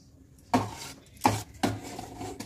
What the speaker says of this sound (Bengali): এবার একটা ছোট্ট পাত্রে ঢেলে আমি এই গুড় দিয়ে মাখা তালের মাড়িটাকে এইভাবে একটু ভালোভাবে ফুটিয়ে নেব।